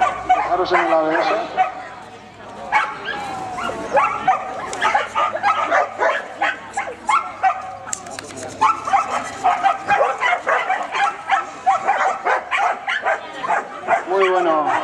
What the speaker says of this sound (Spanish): Primero saldrá Debian, que es una perra muy tranquila.